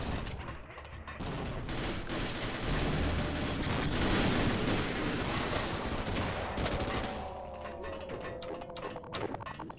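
Rapid gunfire in the co-op shooter Sven Co-op, loud and dense bursts layered with game effects and clatter, a brief mechanical whine near the end, with players talking over it.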